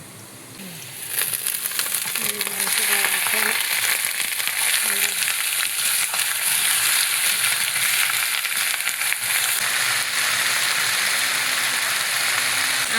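Meat dropped into a hot pan over a wood fire starts a loud, steady sizzle and frying hiss that sets in after about a second and holds unbroken to the end, with faint voices in the background.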